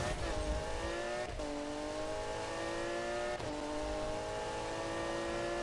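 A Camaro Z28 engine in a video game drones steadily and loudly throughout, its revs rising in sweeps with two sharp gear-shift drops along the way.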